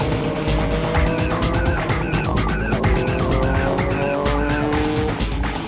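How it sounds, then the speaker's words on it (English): Xanadu Nismo Z race car in a JGTC GT championship race slowing on track, a steady loud engine drone with tyre noise and other cars roaring around it throughout. "Number 1 Xanadu Nismo Z is slowing down."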